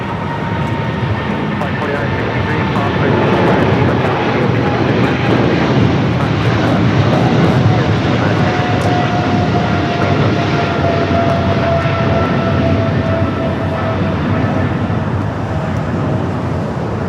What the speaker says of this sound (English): 777 Freighter Cargo King, rock and rolling down that 25 right.